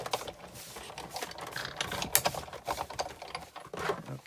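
A hand-cranked Big Shot die-cutting machine rolls paper through its plates, giving a close, quiet run of ratcheting clicks and gear-like grinding with uneven rhythm.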